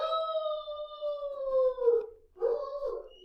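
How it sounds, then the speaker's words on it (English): A dog at home howls close by in one long, drawn-out wail that slides downward, breaks off, then rises again briefly in a second shorter cry, with no talking. "my dog's barking a lot"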